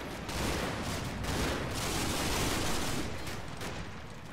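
Dense, continuous barrage of gunfire in a video game, a steady roar of overlapping shots without clear gaps, moderately loud and somewhat distant.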